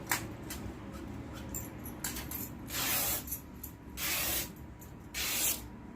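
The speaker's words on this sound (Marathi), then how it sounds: "या ठिकाणी मी चार इंचाची पट्टी कट करत आहे" Scissors cutting a four-inch strip from an old saree: a few soft, rasping swishes of blade through cloth, preceded by light clicks. Quiet, close and without talk.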